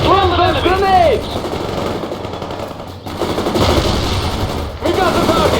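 Rifle and machine-gun fire in the World in Conflict strategy game, sustained rattling bursts with battle noise, mixed with loud shouted voices.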